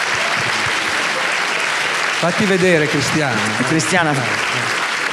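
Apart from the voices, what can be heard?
audience applause greeting screenwriter Cristiana Mainardi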